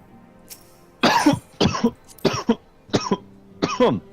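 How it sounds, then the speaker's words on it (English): Five sharp, fairly close coughs come in quick succession, the first the heaviest, each a short harsh burst separated by brief pauses, with no talking over them. "Cough."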